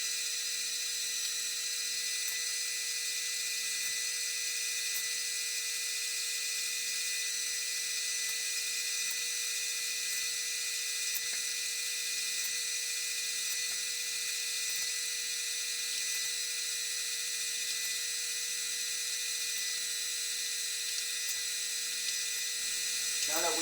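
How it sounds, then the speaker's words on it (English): An electric meat grinder runs steadily on a second grinding of meat for sausage, a continuous high motor whine with a faint mechanical drone, fairly quiet and unbroken for the whole stretch with no talking. "So we'll go on to the next phase, which is the second grinding of the meat."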